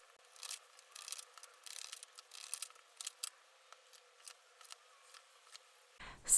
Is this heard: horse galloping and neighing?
no